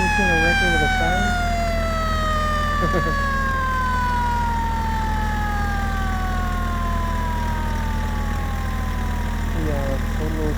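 A tow truck's siren winds down in one long falling wail over a droning engine, close and loud, with faint voices in the background.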